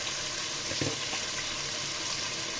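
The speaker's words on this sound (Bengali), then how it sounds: "এটাকে আমি 5 মিনিট মতো কষিয়ে নিচ্ছি যেন গন্ধটা চলে যায়" Duck meat sautés in a pan with a steady close sizzle and a couple of brief stirring scrapes early on, no talking.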